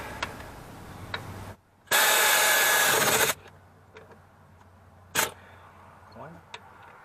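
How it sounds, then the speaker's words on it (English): A power tool tightens the brake caliper bolts on a Dodge Ram 2500 during a front brake job. One loud, sustained whirring burst of over a second stands out, with a few sharp metallic clicks before and after. "Now we'll tighten up our caliper bolts."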